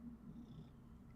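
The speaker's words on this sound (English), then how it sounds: "I wish you could hear her purring." A cat purrs steadily up close, a low continuous rumble with no talking.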